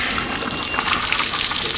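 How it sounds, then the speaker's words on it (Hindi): Water from a fire-fighting hose pipe pours down at a test point in a fire-fighting system, a steady broadband rushing gush that stays close and loud for the whole moment with no talk over it. "ये पानी यहाँ पे ही गिरेगा।"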